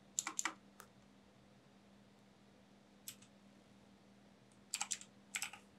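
A computer keyboard is typed on in short bursts, a quick cluster of close clicks, a lone tap, then two more rapid clusters over a steady low electrical hum.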